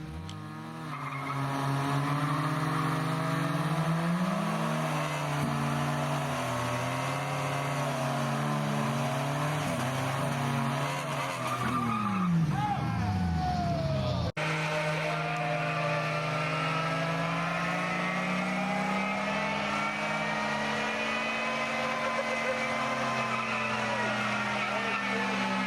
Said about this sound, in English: A Cherokee in reverse versus a Yaris.